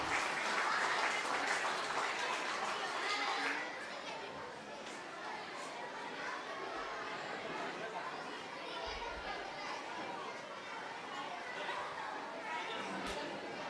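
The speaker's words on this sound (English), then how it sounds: "Parents, please give a big round of applause for them." Parents applaud at a school annual day, a broad wash of clapping that swells loudly at first then settles into steady, slightly softer applause, with crowd chatter mixed underneath throughout.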